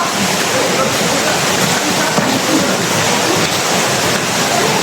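A 120-foot waterfall roars in a steady, dense wash of falling water, loud and continuous with no breaks, as if heard from close by.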